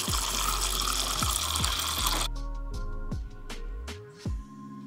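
A kitchen tap runs in a steady broadband rush for about two seconds, then shuts off, leaving scattered drips and small splashes in a sink, heard up close with no talking.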